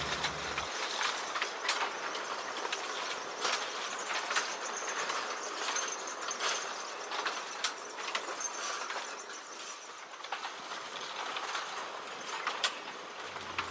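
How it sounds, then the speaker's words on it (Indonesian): A Diema locomotive, no. 7, hauls a very long train of empty sugarcane lorries on a sugar mill line: a steady run of rattling wagon clatter with rhythmic wheel clicks passing close by, no talk. "Ternyata lokomotif Dema nomor 7 membawa rangkaian lori kosong yang sangat panjang"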